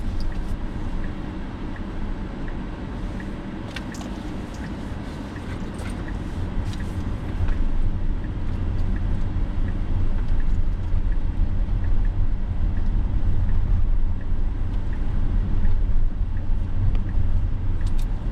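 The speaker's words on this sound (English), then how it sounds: "we'll give it the accelerator, get her started. We're on the way." A Tesla running FSD Supervised 12.5.1.3 pulls away from a stop on an early-morning drive near Houston, its low motor and road rumble rising steadily and staying loud and close inside the cabin, with no talking.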